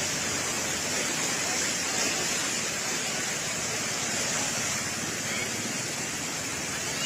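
Water pouring over a broken culvert onto a damaged road near a railway, a loud, dense, continuous roar of rushing water that fills the whole clip.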